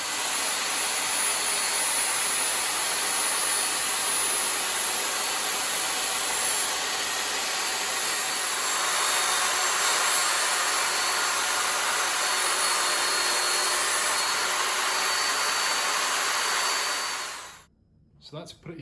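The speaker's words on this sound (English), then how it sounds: "So that's a pretty good cut, considering it's the multi-blade and it's just on a bit of shearing timber" An Evolution R255 table saw with a multi-blade ripping through a piece of sheathing timber, a loud steady whine and roar that holds for about seventeen seconds before cutting off abruptly.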